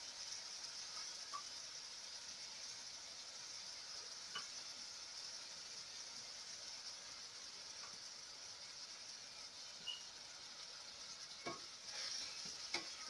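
Chickpeas are stirred in a pan over a faint, continuous hiss of cooking, with a few soft scrapes and light taps scattered through, quiet and close.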